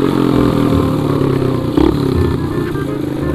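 Motorcycle engine in the Free Fire video game, a loud, steady buzzing drone with a brief rev surge partway through and a faint clatter over the constant motor noise.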